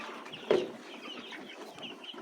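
Laying hens on a poultry farm cluck in short bursts, one louder squawk near the start and another at the end over a steady background of soft farm noise.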